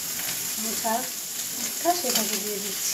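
Shrimp and banana flower fritters frying in hot oil give a steady, close crackling sizzle that runs the whole time, with someone speaking over it.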